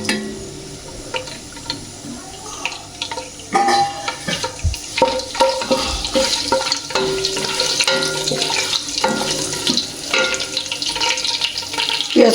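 Whole spices, garam masala, bay leaves, cardamom and cinnamon, sizzle in hot oil in a pot for khichuri, a close, steady crackling with clatters and stirring scrapes throughout.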